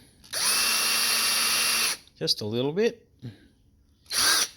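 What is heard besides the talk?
power drill drilling into wood end grain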